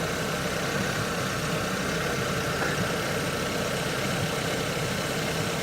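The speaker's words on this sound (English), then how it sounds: "we'll just wait it till it warms up and it idles down at the proper RPMs" A 2006 Honda Civic engine idling after a motor swap while warming up, a steady dense mechanical drone heard close and continuous throughout, with no voices.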